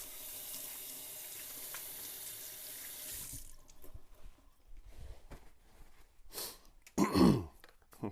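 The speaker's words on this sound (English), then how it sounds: "Got to rinse my hands off." Tap water runs steadily into a sink while hands are rinsed during rib preparation, then cuts off, followed by scattered kitchen handling noises and a throat clearing.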